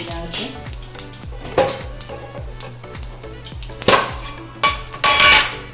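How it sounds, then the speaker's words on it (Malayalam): Small onions tipped into a frying pan for crab roast curry, with repeated clinks and scrapes of a utensil against the pan and a brief sizzle rising near the end. "ചെറിയ ഉള്ളി ഇട്ട് കൊടുക്കാം."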